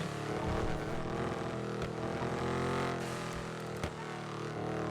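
Loud car noise, a steady, heavy drone of engine and road rumble, carries on without a break inside the car, with no talk over it.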